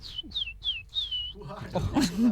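Four short, high descending whistles from a person imitating a bird call, followed by a speaking voice.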